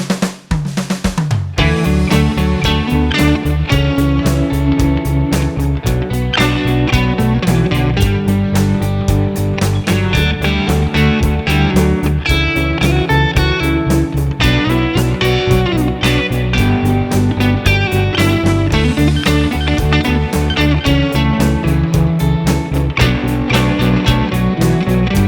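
Guitar plays a continuous intermediate workout passage combining several techniques, busy and steady with strong, even picking and ringing chords throughout, loud and alone with no talk.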